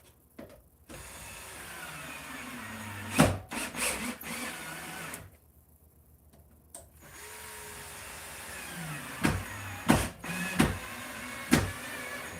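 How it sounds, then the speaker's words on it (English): A power drill drives screws into the plywood base plate of a taxidermy form for a large whitetail deer mount, with whirring bursts separated by pauses and sharp clicks, close and alone. "you're just screwing right into those to that piece of plywood"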